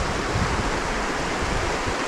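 A river rushes and burbles in a continuous, loud, broadband wash of flowing water, close by and steady, with no other sounds over it.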